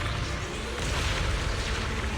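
Zenless Zone Zero battle explosions roll on as a continuous, dense roar of booms and crackling bursts, loud and sustained without clear pauses.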